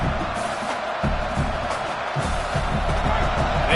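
Football stadium crowd at a UGA vs LSU game roaring steadily as the opposing offense is pinned deep in its own end, a dense, sustained wash of cheering with no clear breaks.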